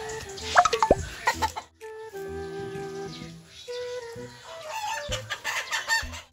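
A rooster crows repeatedly and clucks nearby, its calls loud and close with short gaps between bursts, at a village chicken-keeping setting.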